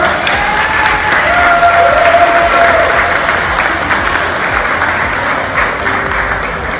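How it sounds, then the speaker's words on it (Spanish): A crowd at a Mother's Day celebration in the Bronx applauds loudly, steady close clapping with scattered cheers and a few voices underneath. "Démele un fuerte aplauso a mi compañero, amigo, a mi hermano, George Álvarez"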